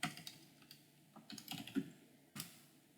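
Someone types a name into an Excel spreadsheet on a computer keyboard, with soft, irregular clusters of key clicks. A few louder taps stand out, and there is no talking.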